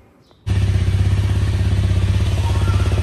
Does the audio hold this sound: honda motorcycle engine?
yes